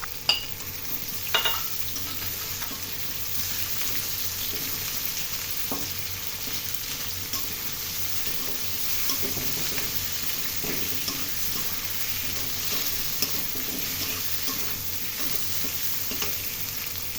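Potatoes frying with onions for bottle gourd leaf bhaji, a steady soft sizzle of oil with occasional stirring scrapes in the pan, continuous and close, without speech.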